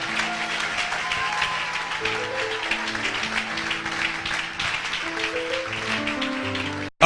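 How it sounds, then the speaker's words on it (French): A church congregation at a healing service claps and cheers steadily, the applause dense and sustained under music with held tones, before it cuts off abruptly at the end. "acclame plus fort pour la gloire de Dieu"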